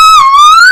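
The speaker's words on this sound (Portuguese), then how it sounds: "Apesar que o assobio do Gohan não é tão agudo assim." A single sustained whistle from a Dragon Ball anime film, a clear, loud, pure tone under a second long that dips slightly and then slides gently upward before cutting off, with no other sound.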